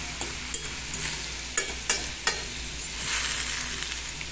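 Chopped sausage frying in a pan for Brazilian farofa, a steady close sizzle broken by several sharp utensil clacks while it is stirred, no talking.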